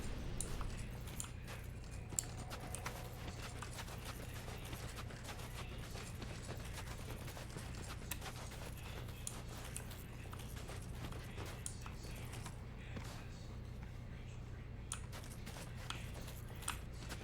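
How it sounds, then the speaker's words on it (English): Horses' hooves clip-clopping in Dark Souls 2, a steady stream of faint, rapid hoof clicks over a low constant hum, with no talk. "See, the horses find me in here."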